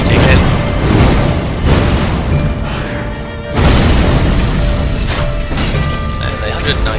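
Exploding crossbow bolts burst against the Soul of Cinder boss in Dark Souls 3, a series of loud booming impacts over a dense, crashing game soundscape, with a heavy blast near the middle.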